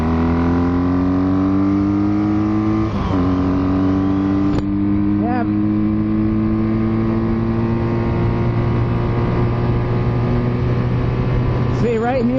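A Kawasaki KZ440 motorcycle engine drones steadily close by, its pitch rising slowly under sustained throttle with a couple of quick blips, loud and continuous throughout.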